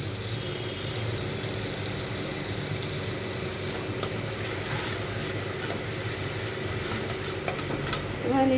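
Spice paste with turmeric fries in a pan with a little water for a cauliflower curry, producing a steady low sizzle and bubbling with faint stirring scrapes throughout, no talking.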